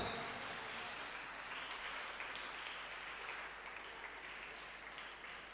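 Steady applause from an audience at a junior school graduation ceremony, a dense continuous patter of clapping that holds evenly throughout with no voices standing out.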